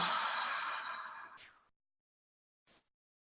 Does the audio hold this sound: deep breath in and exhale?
yes